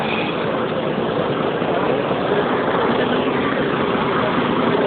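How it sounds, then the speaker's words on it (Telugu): A large lorry engine runs steadily nearby on a river ferry, a loud continuous low rumble with no change in pace. "చూసారా ఇంజిన్ ఎంత పెద్దగా ఉందో?"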